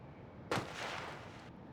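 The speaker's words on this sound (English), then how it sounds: "What was that? Another gunshot?" A single sharp gunshot cracks out in a video game during a spooky Halloween agent event, followed by a faint rolling tail, fairly quiet overall.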